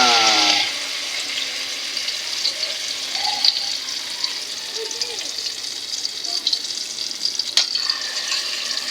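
Eggplant omelette frying in a pan gives a steady, close sizzle that lasts throughout, with faint clatter from the cookware now and then.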